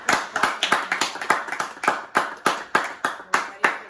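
Applause for the chefs at the end of a home Chopped-style cooking contest, made of about a dozen distinct, evenly spaced claps from a small group over four seconds, close and moderately loud with no talking.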